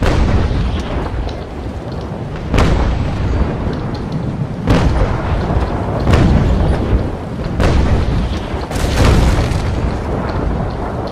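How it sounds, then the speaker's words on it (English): Naval cannon fire in a sea battle video game between sailing brigs: loud repeated booms of cannonades at irregular intervals, each a sharp blast over a continuous rumbling wash of sea and battle noise. "Good hits from his cannonades there."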